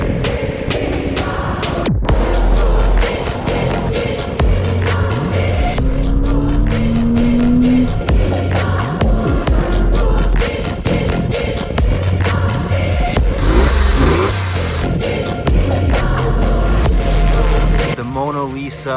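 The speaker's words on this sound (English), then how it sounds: "This is a 2002 Porsche 911 Carrera, and it's a very special car." A 2002 Porsche 911 Carrera sports car drives at speed, its engine loud and close, rising and falling as it accelerates and shifts, with brief tire noise and people talking over it.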